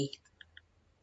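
Two soft, quick computer mouse button clicks, close and quiet, spaced about a fifth of a second apart against a near-silent background.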